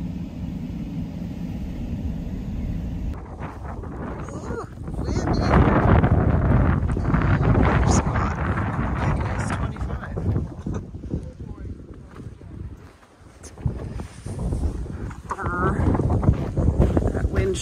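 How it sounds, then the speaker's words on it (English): Strong winter wind buffets the microphone at a Badlands campsite in surging, rumbling gusts that swell, dip briefly and rise again. A voice is faintly heard beneath the roar. "wind sure makes it colder."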